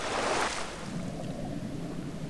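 Waterfall in the canyon level of the Indiana Jones and the Infernal Machine game, a broad rushing roar that swells loudest at the start and then settles into a steady wash of water, with no talking.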